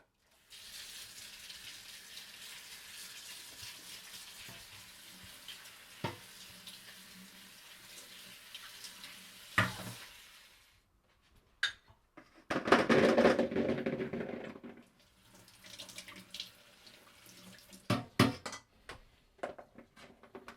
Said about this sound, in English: Alright, so first of all, just going to give these a rinse.